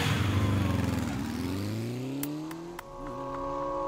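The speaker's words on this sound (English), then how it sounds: "hearing the bike's engine roar to life" Motorcycle engine in the game 428: Shibuya Scramble, loud revving with pitch sweeping upward as the bike accelerates, then settling into a higher steady whine as it pulls away.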